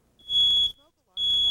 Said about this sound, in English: may not be awakened by the sound of a smoke alarm